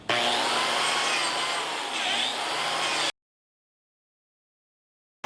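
A woodworking plunge-cutting power tool cuts into wood along a marked line, a loud steady whining cut for about three seconds that stops abruptly, followed by silence.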